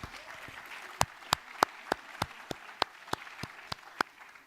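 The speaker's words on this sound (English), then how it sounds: "Please, a round of applause for this." Sparse audience clapping at a travel conference session marking a new partnership announcement; a dozen or so distinct, evenly spaced claps rather than a full ovation, fairly faint in a quiet room.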